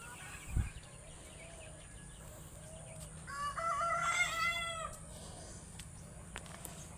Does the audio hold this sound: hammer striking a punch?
no